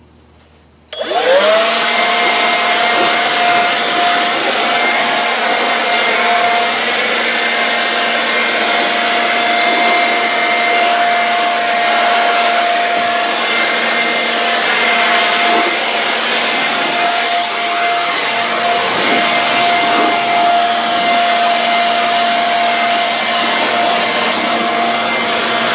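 A GOCHIFIX 21V cordless leaf blower switches on and runs at a loud, steady whine for about 25 seconds, blowing dust and grass clippings off a John Deere mower.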